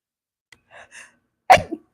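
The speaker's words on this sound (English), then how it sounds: "I had to sneeze" A single loud, sharp sneeze bursts out close by after a couple of small sharp breaths in the quiet.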